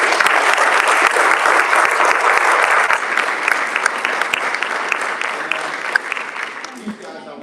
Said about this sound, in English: But everybody, let's give a round of applause for Claire Isofano.